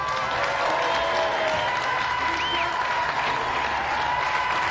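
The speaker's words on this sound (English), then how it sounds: "Round of applause for them anyway." Steady applause from a studio audience on a TV game show, a dense wash of clapping that holds at an even level for the whole stretch.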